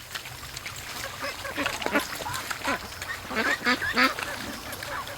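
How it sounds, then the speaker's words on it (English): A goose honks among quacking ducks at a swamp, with close, clustered calls overlapping and rising in a flurry near the end. "Oh, it's a goose! There's a goose down here!"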